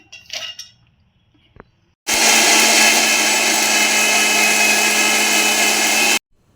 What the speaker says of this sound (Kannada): ಈಗ ಮಿಕ್ಸಿ ಹಾಕೊಳಕತ್ತೀನಿ